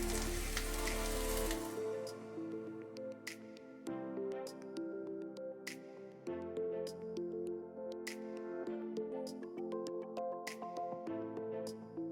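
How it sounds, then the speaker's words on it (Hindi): Chopped cauliflower florets hit a hot pan with a loud, broadband sizzle for about a second and a half, then the frying fades under steady background music. "इसके साथ साथ हम इसमें डाल देंगे अपनी बारीक छोटे छोटे फ्लोरेट्स में कटी हुई फूल गोभी"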